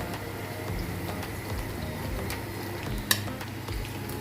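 Steady sizzling and crackling of chicken roasting in a pan for tikka pulao, with occasional scrapes and a sharp clink of utensils.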